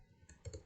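A few quick, faint computer keyboard keystrokes while a terminal command is typed, soft clicks in a short burst.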